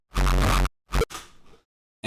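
A synthesized psy-style kick drum tail layer made in Serum, heard as a few short punchy electronic hits with a brief decaying tail, loud and isolated with no voice.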